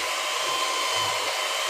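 Electric hand mixer beating a sugar-and-water biscuit dough made with powdered sugar and no eggs, a steady, loud motor whir running continuously without pause and no voices.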